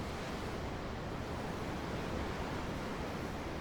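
Steady ocean waves and surf roll on without a break, a broad, dense wash of water noise at even loudness with no voices over it.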